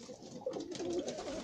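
Pigeons in a loft cooing after the hatch is opened, a low continuous murmur of several birds at moderate level, with soft rustling and background noise throughout.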